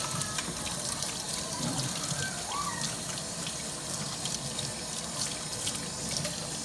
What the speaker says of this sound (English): I got the water on leak warm, not too hot and not too cold. So I'm going to rinse my hair first